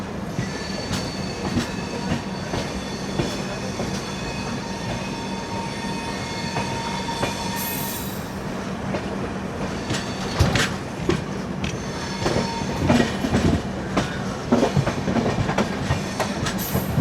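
Rajdhani Express train running into Madgaon Junction, heard from on board: steady rumbling wheels with rhythmic clickety-clack over rail joints, occasional squeals and bangs, continuous throughout.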